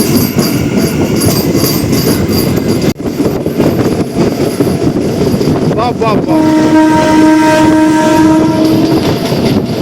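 A Rajahmundry to Bhimavaram MEMU train runs loud and close with a continuous wheel-and-rail roar and rhythmic clatter, then a long sustained horn blast sounds near the end.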